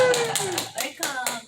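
A church congregation at an early-morning QT worship service claps to welcome a deaconess, brief scattered hand claps mixed with voices and chatter nearby.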